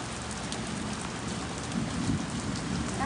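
Heavy rain pours steadily outside a tiny house, a dense, continuous hiss of drops drumming on surfaces, close and unbroken with no voices.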